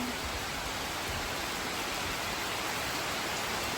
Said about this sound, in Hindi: यहाँ पे आप देख सकते हैं ना हवा के साथ जो है ना बारिश चालू हो गई है।